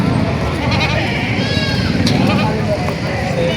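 Goats at a livestock sale bleat amid a dense, noisy crowd, a few wavering calls rising over constant chatter and background bustle.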